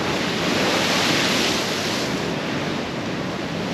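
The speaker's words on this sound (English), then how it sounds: "You could see that force of the water crashing over." Storm-driven ocean waves crash over sandbags and dunes on a coastline, a loud, continuous roar of surf and rushing water mixed with heavy wind buffeting the microphone.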